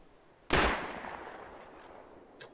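A single sharp gunshot rings out in the survival game Rust, loud and close, with a long reverberant tail that fades over about two seconds and a faint click near the end.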